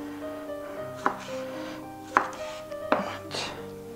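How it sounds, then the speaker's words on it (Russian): Kitchen knife chopping tomatoes on a board for bacon sandwiches, three sharp cuts spaced about a second apart, close and fairly loud, with a low hum and faint clatter between strikes. "Так, нарезаем помидорки наши."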